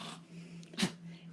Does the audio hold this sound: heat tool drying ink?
no